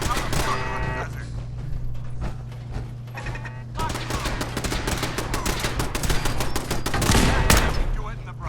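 Rapid automatic turret gunfire in the Fallout 4 video game, loud, near and sustained in dense bursts with sharp impacts, swelling toward the end over a constant low hum.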